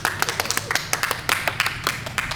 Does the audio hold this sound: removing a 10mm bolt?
no